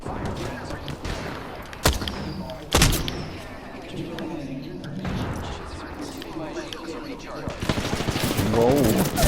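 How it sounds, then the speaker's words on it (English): Gunfire in the video game Apex Legends, with two sharp loud shots followed by a dense stretch of rapid firing and impacts, mixed with game effects and voices talking over the action. "I'm getting shot at."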